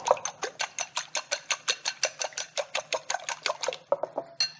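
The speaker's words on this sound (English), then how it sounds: "I'm going to get these eggs whipped up right now" Eggs are briskly whisked in a bowl, producing a fast, even series of close metallic taps and scrapes that ends with a few irregular strokes.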